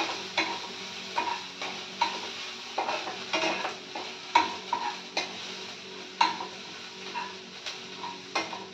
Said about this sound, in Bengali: রসুন যে আমি কুচিয়ে রেখেছিলাম এটা আমি দিয়ে দেব। ভালো করে আমি একটু এগুলোকে ভেজে নেব।